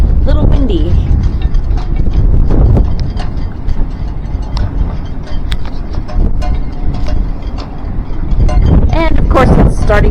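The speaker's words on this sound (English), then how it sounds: "A little windy." Strong wind buffets the microphone with a steady roar and gusty rumble throughout, with faint mechanical clatter and bits of speech underneath.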